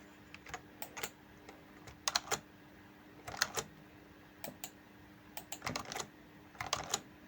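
Computer keyboard keys clatter in quiet, irregular bursts of quick clicks with short pauses between runs, close and fairly soft, with no voices.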